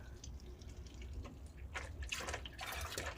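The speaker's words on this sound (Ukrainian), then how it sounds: "Пішла зливатись рідина." Engine flush fluid drains from a car's EP6 engine, splashing and trickling steadily in a continuous watery gush growing a bit stronger toward the end, close by with a low background hum.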